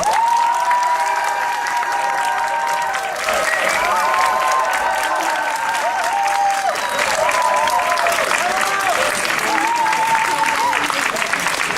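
An outdoor crowd at a troubadour tournament in Gruyères applauds to vote for the Artemisia company, with sustained clapping and some cheers mixed with voices and tonal musical or singing sounds over it.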